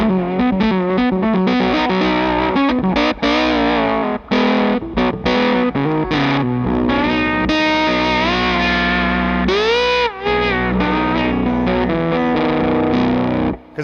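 An electric guitar through a Pedal Pawn fuzz pedal gives a soft, woolly, pillowy fuzz tone. It plays a loud, continuous run of phrases with quick picked notes, bends and sustained notes, and there is no talking.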